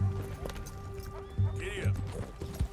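A horse gallops with steady clip-clopping hoofbeats in Red Dead Redemption 2, and partway through it gives a whinny, all under music and background game sound.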